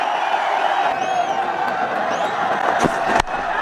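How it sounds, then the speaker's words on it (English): Cricket crowd at an India versus Australia match roaring steadily for a boundary, a dense continuous wash of cheering with a few whistles and a sharp clap-like hit near the end. "the crowd's loving it"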